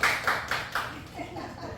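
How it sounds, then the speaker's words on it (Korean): A few scattered, fairly faint claps from an audience at a Bible lecture, four soft rhythmic beats in a reverberant room followed by quieter murmur. "박수 한번 쳐줘요"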